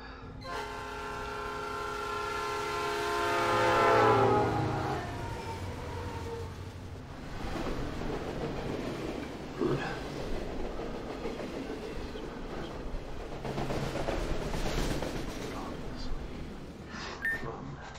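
In the Pokémon Reborn game, a train sounds its horn and rolls away with rhythmic clattering and rumbling, growing loud then easing into a steady rolling noise.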